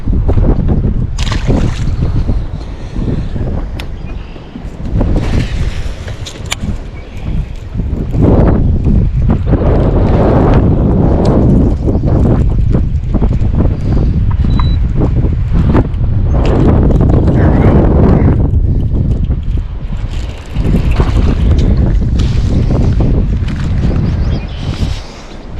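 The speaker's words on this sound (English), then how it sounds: "And we're in the wind." Strong wind buffets a small fishing boat on open water, roaring and gusting loudly into the microphone throughout, with some water and hull knocks and occasional brief voices underneath.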